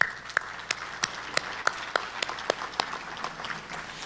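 Sparse, steady clapping at a Chamber of Commerce monthly luncheon, individual claps spaced evenly over a light room murmur, a small audience rather than a roaring crowd.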